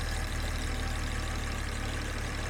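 A Jaguar XJ6 with a new engine idling while parked, a steady low drone and hum held at an even level with no voices.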